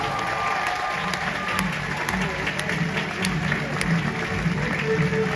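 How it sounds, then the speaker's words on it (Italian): Audience applause for cruise ship managers aboard the MSC Seashore, a steady, dense round of clapping from a crowd that holds at an even level throughout, with faint voices mixed in underneath. "please give a round of applause to the incredible managers that are at your service"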